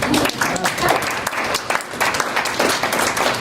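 Audience applause at the close of a talk at an ISS 2014 conference session, steady dense clapping from a seated crowd lasting throughout, fairly loud and close with no voices over it.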